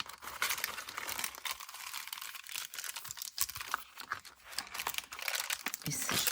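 Paper folded and creased by hand, with continuous close crinkling and rustling as the fold is pressed along, under a person talking.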